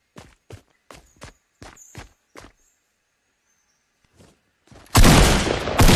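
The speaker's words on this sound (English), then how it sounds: "they hear footsteps just outside" Footsteps outside a building in Fortnite: a run of about seven crisp, evenly spaced steps, then a pause with two faint steps, before a sudden loud burst of noise takes over at the end.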